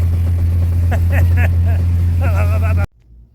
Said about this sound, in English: she's driving pretty good, all things considered